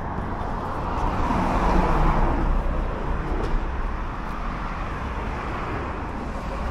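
Car engine on a street in Charleroi, Belgium, rumbling coarsely like a tractor as it passes, steady and fairly loud against continuous broadband traffic noise that swells slightly and then settles.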